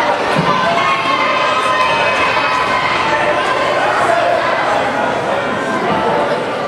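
A jam-packed wrestling arena crowd at a Josef Von Schmidt versus Sgt. Slaughter match, cheering and shouting in a loud, continuous roar with no letup.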